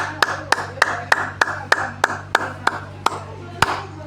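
A church congregation claps in acclaim during a French-language prayer, with about eleven sharp, evenly spaced claps over a steady low hum.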